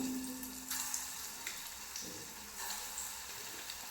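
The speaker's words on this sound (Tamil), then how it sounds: "இதை வந்து எண்ணெயில் போட்டு பொறிச்சு எடுத்துகிட்டு வந்துடும் இப்போ எண்ணெய் காஞ்சிருச்சுங்க ஒவ்வொரு ஒரு உருண்டையாக போட்டு எடுத்துடலாம்" Lentil balls (paruppu urundai) fry in hot oil, giving a steady, close sizzling hiss with soft bubbling and a few brighter crackling bursts, with no one talking.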